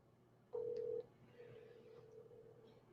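Telephone keypad tone while redialing a dropped call, one short clear beep followed by a fainter steady tone over low background hum, quiet overall.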